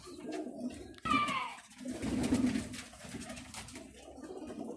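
Pigeons cooing at a busy outdoor Sunday bird market in Lahore, soft repeated low coos close by amid crowd chatter and background voices, with a brief sharper bird call near the start.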